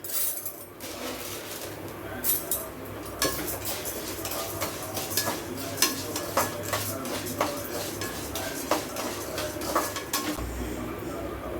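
Toor dal and chana dal dry roasting in a pan for Kumbakonam sambar powder, with a spatula scraping and clinking against the metal in a steady, close run of stirs and no voices.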